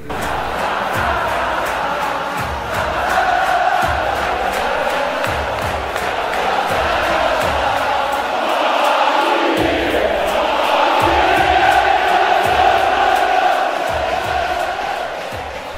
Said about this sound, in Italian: Per lui un coro ad hoc.